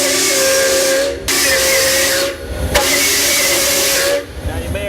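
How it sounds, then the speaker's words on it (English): A 1925 Doble Series E steam car's whistle blows loud and near in two long sustained blasts, each ending sharply, with a steady steam hiss and a short quieter rumbling gap between them. "Let's see if the whistle works."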